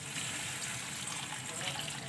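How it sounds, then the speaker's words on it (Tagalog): Water pours steadily into a pot of mung bean stew (ginisang monggo) cooking on the stove, a continuous close, even gushing wash with no voices. "Ayan, maglalagay tayo ng tubig."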